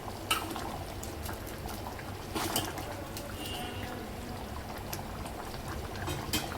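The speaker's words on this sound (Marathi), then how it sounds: "अशा प्रकारे आपल्याला डाळ शिजवून घ्यायची आहे" Dal (lentils) simmering in a pot on a gas stove, a soft continuous bubbling with occasional sharper pops and clinks, close but fairly quiet, without speech.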